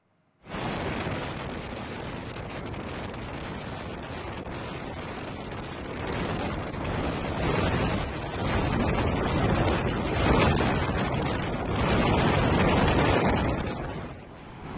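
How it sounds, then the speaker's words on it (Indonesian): Strong wind sweeps across Suramadu Bridge in East Java, where motorcyclists are forced to stop. A continuous, loud roar of gusts buffets the microphone and swells in strength toward the end. "Para pengendara terpaksa menghentikan laju motor lantaran angin kencang yang terjadi di Jembatan Suramadu."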